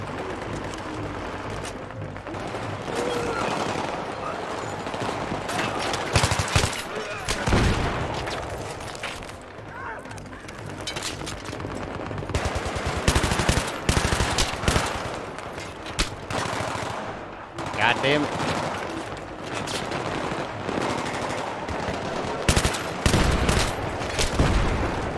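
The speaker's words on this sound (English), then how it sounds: "Get up on the wall and man the LMG!" Battlefield 3 light machine gun fire in a chaotic battle, with bursts of automatic shots repeating across the scene, mixed with other weapons and explosions and occasional voices in the background.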